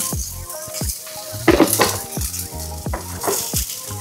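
Vegetable fried rice with onions being stirred in a hot pan, a spatula scraping and clanking against metal in quick repeated strokes over a steady close sizzle.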